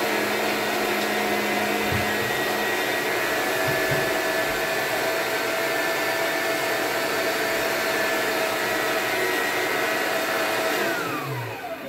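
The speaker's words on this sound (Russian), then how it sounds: "Буду этой мясорубочкой перекручу." An electric meat grinder runs continuously in a home kitchen, a loud steady motor whine that stays level throughout, then begins to wind down at the very end, with no talk.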